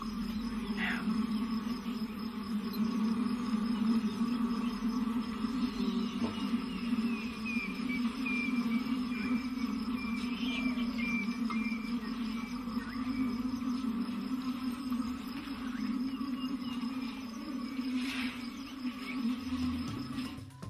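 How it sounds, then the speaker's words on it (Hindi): A recording of African bees buzzing plays near a group of resting elephants, a steady, low, droning hum running throughout at moderate level with faint scattered background noise. "किसी रिसर्चर्स ने आराम कर रहे हाथियों के एक समूह के पास उस मधुमक्खी की भनभनाहट वाली आवाज बजाई"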